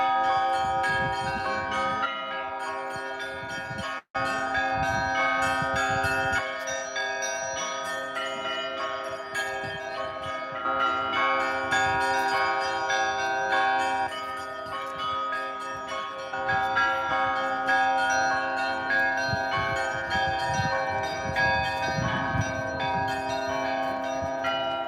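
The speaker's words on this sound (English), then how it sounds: "the bells are being played by an actual person up there" Church bells in a Russian town, rung by hand by a bell ringer, peal continuously with layered ringing tones, loud and sustained for the whole stretch apart from one brief break.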